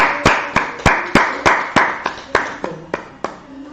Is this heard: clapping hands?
yes